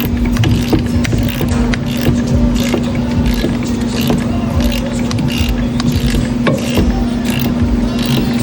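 Ratchet with a 16 mm socket removing e-brake bolts during a C8 Corvette rear suspension teardown: continuous close mechanical ratcheting and scraping over a steady hum, loud and unbroken.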